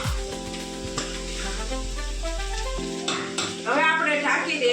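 Corn chevdo cooking in hot oil in a Gujarati home kitchen makes a sizzle under a sustained low hum, then clinks and scraping from a pan and utensil near the end.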